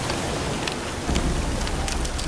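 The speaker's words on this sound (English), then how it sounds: "It's raining!" Rain falls in the video game The Witcher 3: Wild Hunt, a dense, steady hiss of drops with faint scattered ticks running through the whole stretch.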